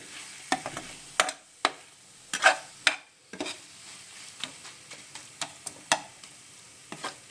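A spoon stirs and mixes methi malai matar masala in a pan, giving irregular scraping clicks and knocks over a soft sizzle, close by and moderately quiet, with no voices.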